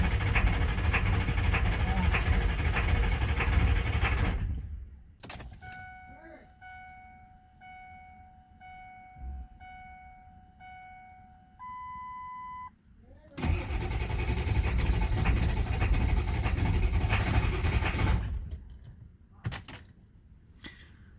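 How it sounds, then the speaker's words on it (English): The 7.3L turbo diesel in a 2001 Ford F250 with 304,000 miles, just fitted with a new IPR valve, cranks on a cold night and roars into a loud, rough run close by, with chimes sounding in a brief quieter stretch. "Cranking good."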